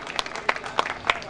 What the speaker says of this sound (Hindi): आप इनका भी जोरदार तालियों से स्वागत करिएगा।